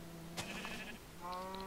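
A cow in the video game Minecraft gives a pair of brief, faint lowing calls with a bleat-like, nasal quality, alone against a soft steady background hum.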